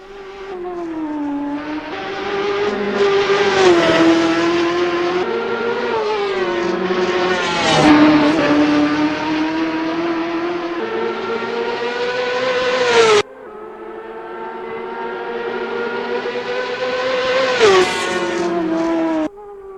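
A Ferrari 458 GT2 race car roars through the Nordschleife in Assetto Corsa, its high-pitched engine revving hard through rising gear pulls and sharp upshifts, loud and close throughout, with a brief cut before the wail climbs again.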